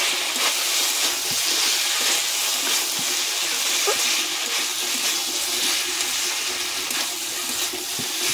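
Cumin and Kashmiri chilli powder, with turmeric and coriander powder, sizzle in a pan for a fish curry with potato and tomato, giving a steady, even hiss throughout.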